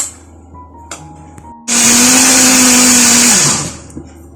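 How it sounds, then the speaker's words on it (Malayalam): Mixer grinder whirring as it grinds grated coconut: a loud, close, steady motor whine with a harsh grinding hiss that starts abruptly, runs for about two seconds, then winds down, with small kitchen clinks before and after. "നമ്മൾ നല്ലോണം തേങ്ങാപ്പീര് അരയുന്ന വരെ അരച്ചെടുക്കണം"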